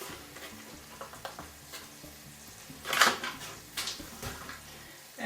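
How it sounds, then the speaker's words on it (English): A spoon stirs flour into melted butter in a pan over low heat to form a roux, giving soft scraping swirls and gentle sizzle, with a louder scrape midway, near and moderately quiet. "we move that all around until we get a nice roux"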